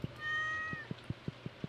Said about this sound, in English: I would like my cat to get out of my way.